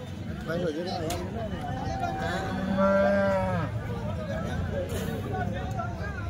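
HF and Jersey cows at a cattle market in Chalisgaon: one long, low moo rises midway through, heard amid a steady murmur of crowd chatter and nearby voices.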